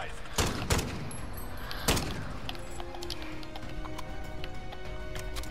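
Faint, sparse gunshots from a weak gun in an online shooter game, with a few sharp cracks early on over a quiet, steady background.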